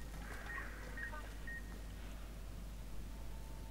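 Short electronic beeps from a device in the video game Fallout: New Vegas, a few faint tones in the first two seconds over steady low game ambience.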